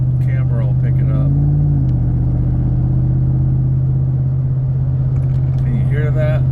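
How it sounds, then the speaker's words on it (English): A loud, throaty pickup truck engine running without a muffler rumbles close by, its pitch shifting as it revs and settles, with someone talking intermittently over it. "I'm driving my truck with the muffler off right now"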